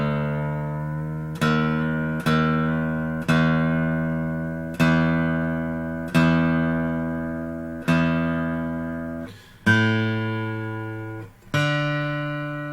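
Acoustic guitar strings plucked one at a time while being tuned back up from a lowered tuning, about eight clear ringing notes with a steady rhythm, each left to decay, close and alone with no talking.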